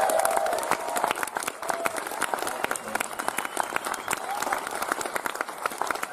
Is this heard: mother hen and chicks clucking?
no